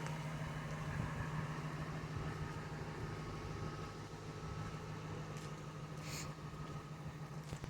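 A truck bought in 1996 idles in a steady, low, continuous rumble that holds even throughout. No voices break in over the engine.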